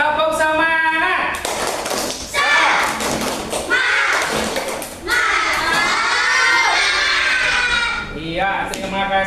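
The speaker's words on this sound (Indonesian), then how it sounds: "Kita tepuk semangat dulu. Tepuk semangat." Children in a classroom doing the tepuk semangat clapping chant, loud rhythmic group claps mixed with energetic shouted chanting, crowded and close, with a lively, excited feel throughout.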